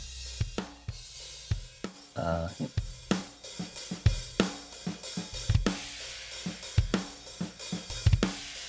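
A punchy, heavily compressed parallel drum mix plays a steady groove, kicks and snares hitting hard with a dense, squashed sustain.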